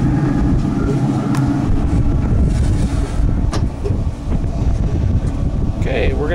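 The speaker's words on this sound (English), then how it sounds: "And again, it's windy out here." Strong wind buffets the microphone outdoors beside a Traeger smoker grill, a continuous loud rumbling roar with a few faint clicks and no clear speech.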